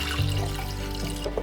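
Water pours steadily into a pan holding grated ginger and squeezed lemon, a continuous close splashing gush with a slight shift in tone near the end.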